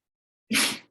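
A single sharp, breathy human sneeze bursts out after a short silence during a heavy-dumbbell strength workout, close and fairly loud.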